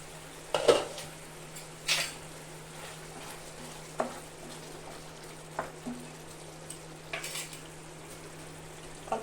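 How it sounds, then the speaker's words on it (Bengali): A metal lid is lifted off a pan of paneer lababdar left covered for five minutes over a low gas flame, giving a few sharp, separate clinks of metal against metal over a quiet kitchen background. "5 মিনিট হয়ে গেছে, আমি ঢাকনা উঠিয়ে দেব।"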